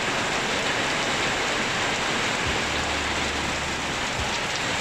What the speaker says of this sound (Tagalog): Narinig ko lakas ng ulan.